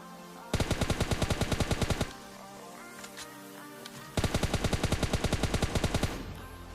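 Rapid bursts of M4 assault rifle fire in a battle royale video game, two long strings of evenly spaced shots separated by a short pause, loud and close with no talking.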